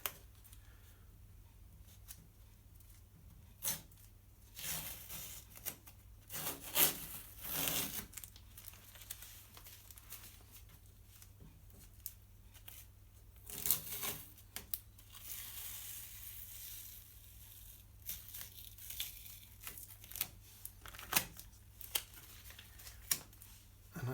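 Tape is peeled off the lugs of mirror supports, giving scattered crinkling and tearing noises at close range, alone in a quiet room.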